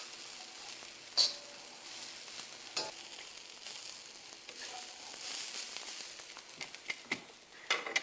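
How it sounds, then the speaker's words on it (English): Broccoli sprouts, about two cups, being stir-fried in a pan, with a steady soft sizzle and the occasional clink and scrape of a utensil stirring, heard close with no talking. "We are done with the stir fry"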